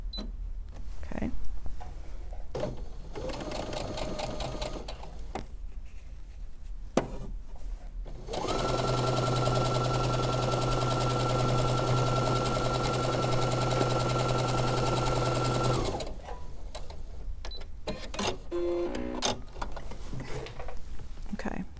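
A sewing machine stitches a quarter-inch quilt seam in one steady whirring run of about seven seconds, flanked by quieter handling sounds and someone speaking before and after.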